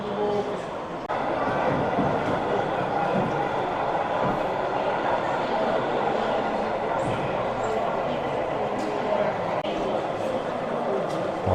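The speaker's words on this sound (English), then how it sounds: "both the locos on the layout here running sound systems that sound extremely" Model railway locomotives with onboard sound systems running on an exhibition layout give a steady, continuous rumble of engine and rolling-stock noise, moderately loud and unbroken throughout.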